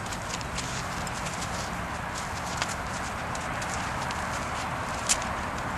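A dun mustang gelding walks about, its hooves clip-clopping softly and steadily over a constant broadband background hiss, with one or two sharper knocks.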